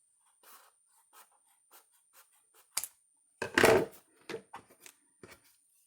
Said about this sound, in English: Cut out the strip.